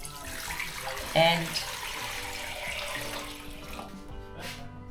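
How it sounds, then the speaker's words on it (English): Water pours into a Milex XL canner pot packed with jars of homegrown vegetables, a splashing, running stream with a brief louder gush early on, while a person talks. "I'm going to pour some water in here"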